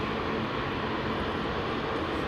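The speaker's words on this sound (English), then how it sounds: "I love the way you can hear the engines purring away" Rolls-Royce Trent XWB jet engines rumble steadily at Heathrow Airport, a continuous broad roar held at even loudness with no pauses or voices.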